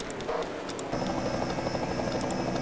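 A helicopter passes above a road-course racetrack at St. Petersburg in a racing video game, its steady rotor chop droning loudly and continuously over the engine noise of the circuit.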